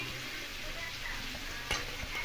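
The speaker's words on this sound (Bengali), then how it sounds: "সবজিটা ভাজা হতে থাকুক, স্লোতে করে দিলাম।" Vegetables fry slowly in a pan for a vegetarian navratan korma, giving a steady, close sizzle that runs throughout with one brief clatter near the end and no talking.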